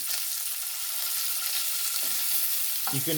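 Strips of bacon fry in their own rendered fat, a dense, steady, close sizzle and crackle that keeps going without a break.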